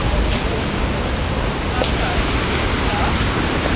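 A small river in winter gives off a steady, loud broadband rush of flowing water that fills the whole moment evenly, with no voices over it.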